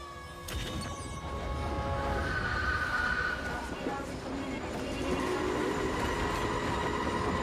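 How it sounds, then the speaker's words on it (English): A train rumbles past in a Ms. Marvel episode, a steady loud rail roar with wheel squeal and a crash-like hit, while a voice talks over it. "The train."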